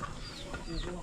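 A chicken clucks nearby in a few short, throaty calls over steady outdoor background noise.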